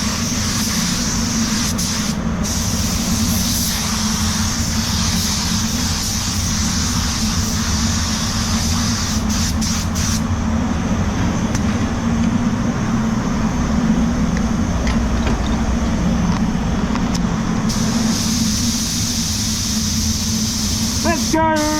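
A W400 spray gun sprays car paint on a Ford Ranger at about 20 PSI, giving a steady, close, continuous hiss over a low hum that runs for the whole stretch with only brief dips.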